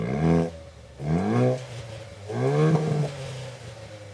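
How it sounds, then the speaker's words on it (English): A Haval H6GT SUV with a bimodal exhaust revs three times, each a rising, throaty roar that swells and fades, recorded close by with no talking. "I wasn't expecting this to have a bimodal exhaust, so that was a nice little surprise."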